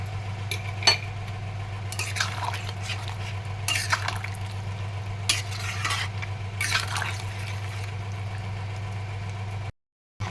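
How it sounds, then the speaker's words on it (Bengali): Capsicum paneer and potato curry simmering in a pot, a low steady bubbling hum under repeated spoon scrapes and clinks against the pan, stirred in irregular strokes, with a brief silent gap near the end. "ঝোলটা আমার ফুটে গেছে"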